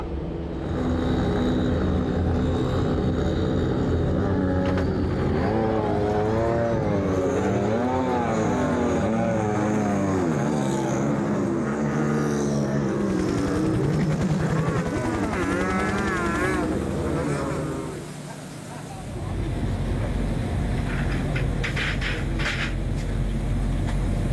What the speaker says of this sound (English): Lights out on the safety car, cars rolling under the bridge onto the front straight